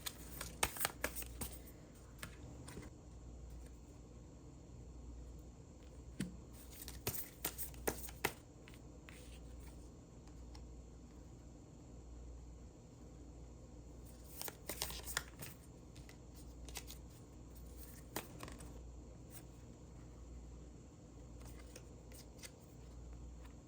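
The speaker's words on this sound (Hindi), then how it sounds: "अब हम कार्ड लेंगे लव ऑरेकल से।" Love oracle tarot cards are shuffled in soft, intermittent riffles and taps over a faint, steady background hiss.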